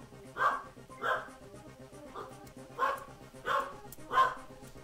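Several dogs bark in short bursts, about six distinct barks spaced roughly evenly over a few seconds, moderately close and alone with no talking.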